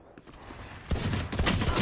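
Video game gunfire: a burst of rapid, close shots crackling in quick succession after a quieter lead-in, over faint background game noise.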